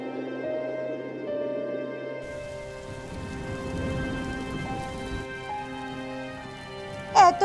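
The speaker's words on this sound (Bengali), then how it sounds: "ভয় নেই দুখু, বৃষ্টি পড়তে শুরু করেছে, ঝড় এক্ষুনি কমে যাবে।" Cartoon rainfall hisses as a steady, soft wash of falling rain, swelling in the middle and continuing faintly to the end, with a brief bright chime-like burst at the close.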